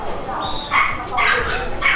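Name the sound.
XL Bully dogs barking in a market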